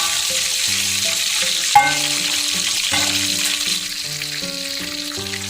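Chicken deep-frying in hot oil for crispy fried chicken, a steady crackling sizzle with occasional sharper pops, close up, under light background music.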